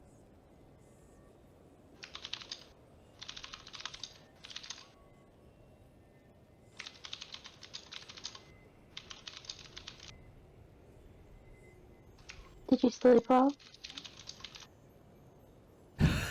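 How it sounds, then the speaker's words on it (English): Someone types on a very loud computer keyboard during an online tabletop role-playing session, with bursts of rapid clicking separated by pauses, close to the microphone, and a voice speaks briefly near the end. "you're typing so loud"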